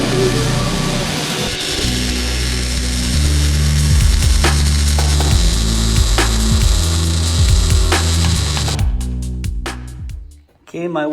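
Metal gusset pieces are cut for a welded powder coat rack, giving a loud, steady, grinding saw run with a rattling mechanical edge that continues for several seconds, then tapers off and stops near the end.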